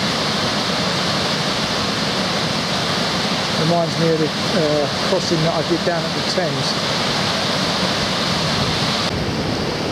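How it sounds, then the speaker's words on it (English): Water rushes loudly and continuously through a sluice on the Great Ouse river at high level, a broad roaring wash, with a person speaking briefly over it midway. "Some sluice here, bit of power of that water."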